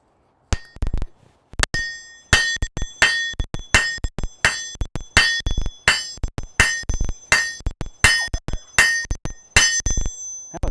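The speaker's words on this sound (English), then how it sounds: "That was me practicing some of that good hammer form that I'm not so good at normally." A blacksmith hammers metal on an anvil in a smithy, a loud, close run of ringing metallic strikes in a steady rhythm, about one blow every half second, with no talking.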